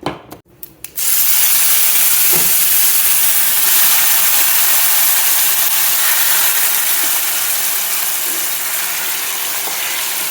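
Ghee tempering (tadka) sizzling in a pan for an amaranth leaf curry, a few sharp clicks and pops at first, then a loud, close, steady hiss that carries on to the end.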